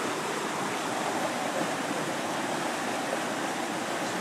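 Rushing river water makes a loud, dense, continuous roar that stays steady and close for the whole stretch, with no other sounds standing out.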